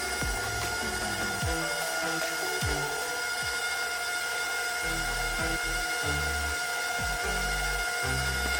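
Electric mixer whirring steadily through chocolate chip cookie dough in a bowl, a loud continuous motor drone with recurring lower thumps as the beaters churn, no talk.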